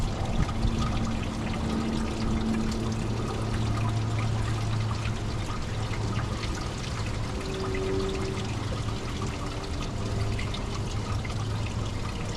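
Coolant drains from a Nissan Sentra with an MR20DE engine, pouring and trickling steadily for a long stretch, a continuous splashing flow with no voices.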